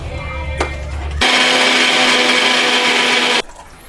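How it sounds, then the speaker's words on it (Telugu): A mixer grinder whirs loudly for about two seconds while grinding fried onions into chutney, starting abruptly and cutting off sharply after a brief quieter lead-in. "ఇప్పుడు ఈ ఫ్రై చేసుకున్న ఆనియన్స్ యాడ్ చేసేసి మళ్ళీ గ్రైండ్ చేసుకోవాలి."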